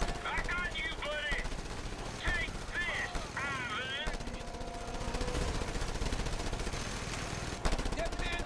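Rapid automatic gunfire from the video game Just Cause 2 rattles steadily throughout, with clipped in-game voices and a person talking over the shooting.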